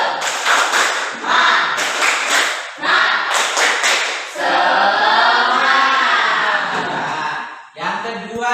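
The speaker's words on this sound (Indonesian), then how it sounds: "Tepuk semangat." A classroom of students does a rhythmic spirit clap together, loud and close, in quick bursts of patterned claps. Then the group breaks into a sustained shouted chant.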